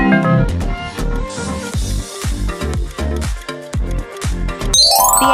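The Cocomelon logo sound plays as a short, bright, bouncy musical jingle of chiming notes, loud and continuous, ending in a sparkling flourish.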